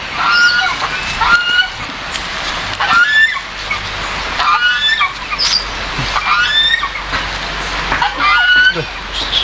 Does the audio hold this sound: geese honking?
yes